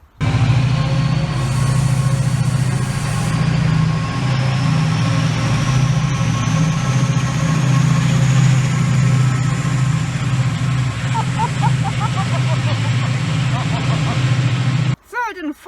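A 3,800 brake horsepower Caterpillar engine runs with a deep, loud, steady rumble and a drawn-out rising whine on top, continuing strongly before cutting off abruptly at the end.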